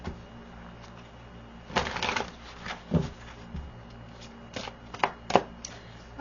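Tarot cards are shuffled by hand in irregular riffling bursts and soft slaps, close and fairly loud, with no talking.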